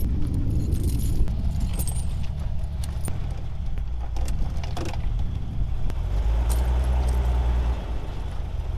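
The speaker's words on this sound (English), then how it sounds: "we've got a couple mismatched chains, so the 2 best ones we're gonna put on the rear" Metal tire chains for truck wheels clink and jangle up close while being handled for fitting in deep snow, with a steady low engine hum underneath.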